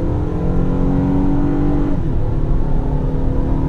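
A 2015 Honda Odyssey minivan with a V6 accelerates hard on a straightaway, its engine note climbing in a loud, steady drone heard from inside, then dipping briefly as the transmission shifts.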